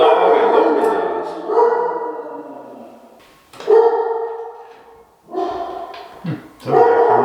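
A dog barks loudly and repeatedly in short bursts close by, with brief pauses between volleys.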